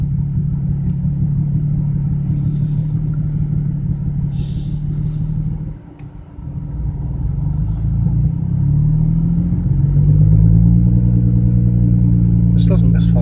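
A BMW 335i with a fuel fault and a cylinder 6 misfire idles and rumbles steadily up close, dips briefly, then rises slightly in revs, while a person talks over the engine.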